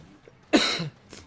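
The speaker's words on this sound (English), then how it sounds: "There's the coughing." A single harsh cough bursts out close and fairly loud, with a faint second cough shortly after against a quiet background.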